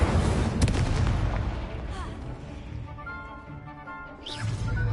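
Explosive Confringo spell blasts in Hogwarts Legacy, a dense run of booming impacts and crackling bursts that are loud and close, with combat effects layered over them and a voice shouting spell names.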